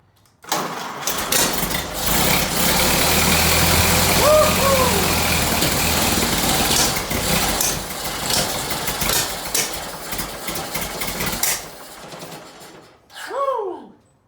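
A 1929 Ford Model A engine cranks, catches and runs roughly at close range for about eleven seconds, then cuts out briefly before a short burst of revving near the end.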